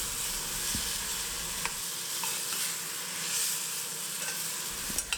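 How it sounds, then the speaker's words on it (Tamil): Drumstick (moringa) pieces sauté in masala in a pan, a steady soft sizzle with occasional light stirring scrapes and clinks throughout, close and moderately quiet. "அதையும் சேர்த்துட்டு 1 நிமிஷம் அந்த மசாலாலேயே நல்லா வதக்கி விட்டுக்கலாம்"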